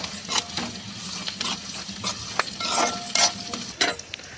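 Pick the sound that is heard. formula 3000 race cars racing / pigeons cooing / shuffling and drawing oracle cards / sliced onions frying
sliced onions frying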